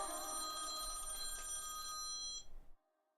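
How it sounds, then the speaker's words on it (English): Bell-like telephone ring, loud and continuous with a bright metallic trill, sounding alone before stopping abruptly and leaving near silence. "Got a phone call."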